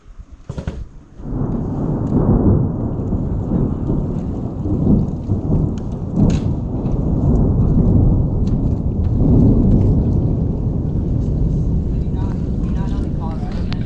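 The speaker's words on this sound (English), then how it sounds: "Listen for the thunder." Heavy rain pours steadily while deep thunder rumbles and rolls through a storm in the Grand Canyon, loud and sustained throughout.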